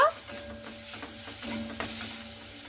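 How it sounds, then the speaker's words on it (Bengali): Spices including Kashmiri chilli powder sizzle steadily in a frying pan while a spoon stirs and scrapes through them, with a few louder scrapes along the way, close and fairly quiet with no talk. "তো একটু ভালো মতো করে নাড়াচাড়া করে নিচ্ছি।"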